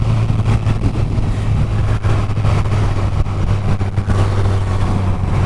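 A stock Honda CBR 1000RR motorcycle engine pulls in fifth gear at around 120 km/h on the road, a loud, steady engine drone with heavy wind rush, close and continuous with no voices.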